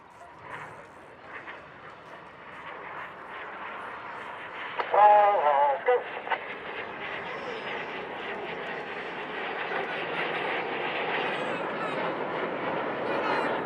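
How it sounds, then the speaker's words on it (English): Red Arrows display jets diving low to about 100 feet at the Blackpool airshow, a broad distant engine roar building steadily and swelling louder toward the end, with crowd chatter and brief voices in the foreground. "Each aircraft once again dive down to 100 feet"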